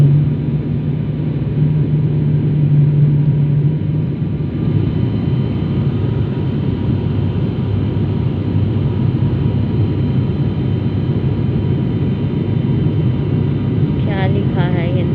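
Airplane cabin noise on the landing approach into Kolkata Airport: a steady, loud low rumble and broadband engine roar that continues throughout, with a faint tonal hum early on.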